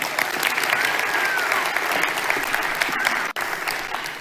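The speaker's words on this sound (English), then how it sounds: "Give her a round of applause." Steady audience applause fills the room, continuous and fairly loud, with a faint voice or whistle above it before the clapping cuts briefly near the end.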